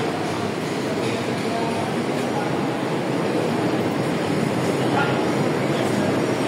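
An airport rail train pulls out of a station platform at Klaten, giving a steady broadband rumble and hiss that holds level throughout, close and fairly loud, with faint voices blended into the noise.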